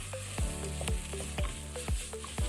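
Garlic powder and ginger powder masala frying in a pan, sizzling steadily while a spoon scrapes and stirs in regular strokes about every half second.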